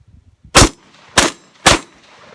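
A Vepr 12 shotgun fires three loud, sharp blasts about half a second apart, each ringing briefly before the action locks back, with no talk over the shots.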